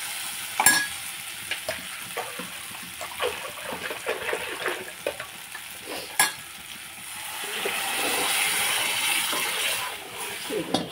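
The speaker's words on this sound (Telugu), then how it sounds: "ఇప్పుడు మనం మజ్జిగ పోసేసుకుందామండి." Buttermilk poured into a pan of sizzling fried curry, a bright hiss and crackle with splashy pouring and stirring that rises into a steady seething wash.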